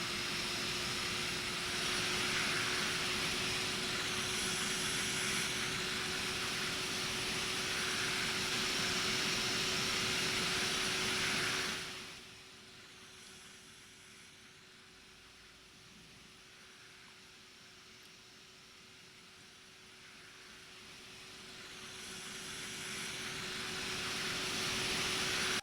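Auxiliary power unit of an Airbus A319 in the Toliss simulator hums as a steady broadband roar with a constant whine, dropping sharply quieter midway before swelling back up.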